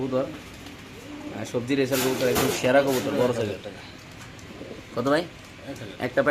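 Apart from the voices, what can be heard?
pigeons cooing in cages for sale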